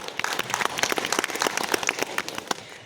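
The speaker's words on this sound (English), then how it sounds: "You can clap." A high school DECA awards ceremony audience claps in scattered, moderately loud bursts, many separate hand claps in an irregular rhythm in a hall.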